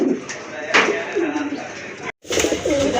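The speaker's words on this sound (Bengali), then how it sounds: "রাজগোল্লা কবুতর, এটা হচ্ছে গাঢ় লাল কালারের ভিতরে বুক সাদা এক জোড়া রাজগোল্লা কবুতর।" A pair of deep red Raj Golla fancy pigeons with white breasts coo in low, rolling phrases, with a brief dropout partway through.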